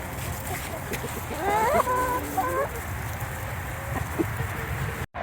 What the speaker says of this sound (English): We have our first hen to make it over